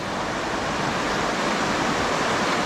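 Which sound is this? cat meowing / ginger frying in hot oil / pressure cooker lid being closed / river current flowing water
river current flowing water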